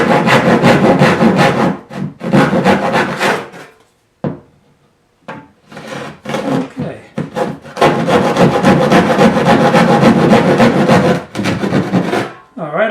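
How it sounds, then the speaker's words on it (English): A handsaw cuts through plywood in a downdraft sanding station build, with loud, close, steady rasping strokes in several long bursts broken by brief pauses, no talk. "Now, we just have to take a handsaw, cut the last little bit"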